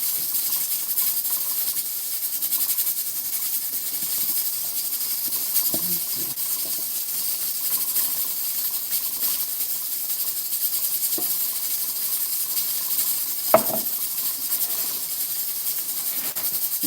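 A pressure cooker in a home kitchen releases steam as a steady, fairly quiet hiss that runs throughout, with a few small clicks and knocks and a sharp tap near the end.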